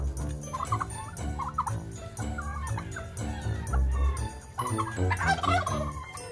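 Turkeys gobble and cluck repeatedly on a rural farm, rapid warbling calls overlapping in close, loud bursts throughout.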